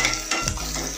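Chopped garlic, onion and chilli fry in a little oil for chilli chicken, a close, steady sizzle with a quick stirring scrape, all in a brief moment with no talking.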